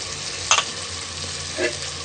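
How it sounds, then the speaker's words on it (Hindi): Turmeric, red chili and other spices frying in a pan for an aloo gobhi gajar matar sabzi, giving a constant low sizzle broken by two brief stirring scrapes, close and without talk. "अब हम इसको मसाले को अच्छे तरीके से भूनेंगे 2 से 3 मिनट"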